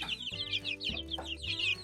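Several chickens, four roosters and two hens, cluck close by in quick, overlapping bursts, with bright chattering calls over a steady low hum.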